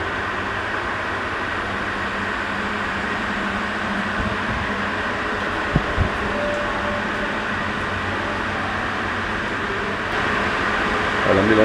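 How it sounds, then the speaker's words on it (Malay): A fan and air conditioning run inside a train-themed food hall, giving a low, even mechanical hum with faint tonal whine that continues throughout, slightly louder toward the end, with a couple of soft knocks midway. "Ada aircon, ada kipas."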